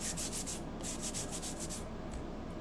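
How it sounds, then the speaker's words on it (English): Steady scratchy sanding of a wooden pumpkin tag by hand, a series of rhythmic back-and-forth strokes, close and continuous, ending in a brief pause. "I'm going to just sand it smooth."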